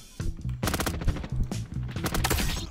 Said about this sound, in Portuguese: Aí, tô levando tiro das costas.